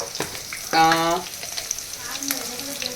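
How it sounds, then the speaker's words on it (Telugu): Onions sauté over a low flame with a soft, continuous sizzle close by, broken briefly by a short ringing tone early on, and no speech. "ఆనియన్ అనేది, ఉల్లిపాయలు అనేది పచ్చి వాసన పోయేదాకా సిమ్లో పెట్టాలి."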